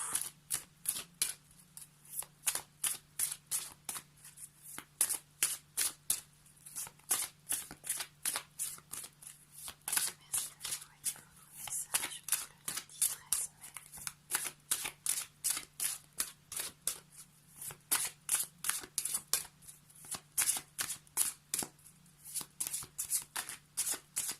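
Tarot cards being shuffled by hand for a reading: a long, rhythmic run of quick, crisp riffling bursts, close and fairly soft, repeating steadily with no talk.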